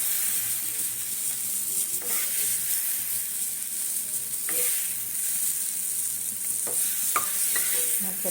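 Hot water poured into a pan of frying turnip dum curry sets off a steady, close sizzling hiss, broken by a few sharp scraping clicks of a spoon stirring.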